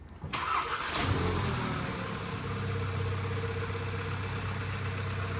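A turbocharged MQB-platform Volkswagen Group car, modified for louder turbo noise, cranks and catches, then settles into a loud, steady idle with a low rumble and a faint whine above it.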